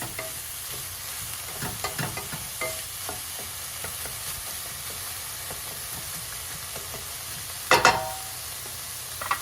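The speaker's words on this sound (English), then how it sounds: "Chopped carrots are going in. Okay, stir it all nice together." Chopped carrots stirred in a hot pan for turkey bolognese, giving a steady low sizzle with soft scraping stir strokes throughout and a brief louder clatter near the end.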